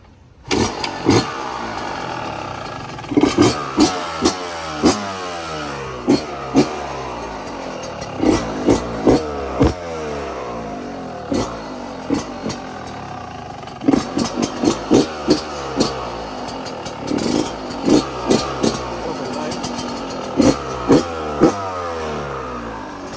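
A 2021 Yamaha YZ 125 two-stroke dirt bike starts up and idles close by, broken by repeated sharp, rising throttle revs that scream up and fall back in quick bursts.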